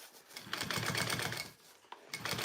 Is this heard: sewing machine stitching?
yes